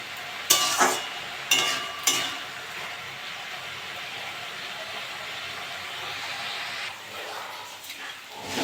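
Red amaranth greens with potato sizzle steadily in a hot pan, with a few sharp clanks of a utensil stirring near the start.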